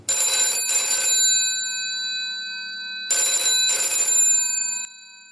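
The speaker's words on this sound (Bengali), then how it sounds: "ক্রিং ক্রিং করে ফোনটা বেজে উঠল" An old-style telephone bell rings in two bursts of double rings, bright and metallic, with quiet pauses between.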